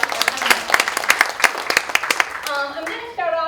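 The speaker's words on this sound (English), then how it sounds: "So give yourselves a round of applause." Bennington theater community members applaud themselves at a season announcement, a light scatter of claps under a speaking voice, ending with a voice talking alone.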